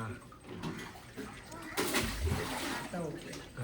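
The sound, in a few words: water being drawn and filling a container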